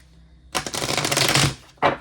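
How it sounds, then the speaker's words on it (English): A deck of tarot cards being riffle-shuffled up close, a dense rapid flutter lasting about a second, followed by a brief second riffle. "Let me just shuffle a few times."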